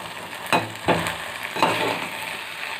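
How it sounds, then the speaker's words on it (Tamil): Tomatoes and mint sauté in a pan for street-style masala poori, with three distinct scraping spatula strokes over a light, continuous sizzle, close and alone without speech. "ரெண்டு சின்ன தக்காளி சேர்த்துக்கிறேன். நல்லா வதக்கி விட்டுக்கலாம்."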